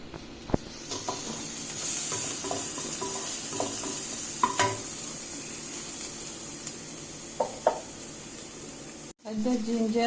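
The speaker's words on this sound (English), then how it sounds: "Add the chili and saute again. Add the garlic paste." Chili and garlic paste sautéing in a pan for Indian kadai paneer, a soft steady sizzle and hiss with occasional stirring clinks and scrapes throughout, fairly quiet, cutting off briefly near the end before resuming.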